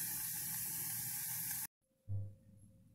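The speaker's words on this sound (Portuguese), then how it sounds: "E vamos dar uma refogada aqui." Meat and boiled cassava sizzle in a pan as they are sautéed, giving a steady loud hiss that cuts off abruptly and then resumes more quietly after a short thump.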